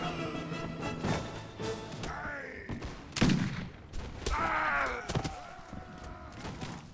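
Rifle volleys crackle through a chaotic Mount & Blade Warband battle, with scattered shots and one louder close crack amid shouting soldiers and battle noise.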